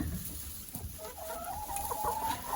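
Laying hens cluck softly in a farmyard, with a rising, drawn-out call near the end over steady low background noise.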